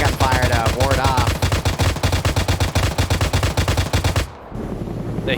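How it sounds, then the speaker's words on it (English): DShK heavy machine gun fire in a Vietnam-era multiplayer shooter, a loud, rapid sustained burst of evenly spaced shots for about four seconds that cuts off abruptly, leaving quieter background noise. "they're going to use that anti-material machine gun fire to ward off"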